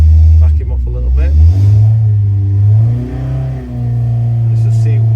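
A car engine on a dyno roars at full throttle, its deep rumbling note rising and falling as the revs climb, loud and close with someone talking over it.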